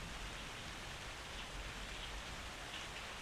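Continuous steady rain hisses evenly, soft and enveloping, with no voices or other sounds breaking through.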